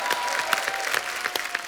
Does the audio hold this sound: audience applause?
yes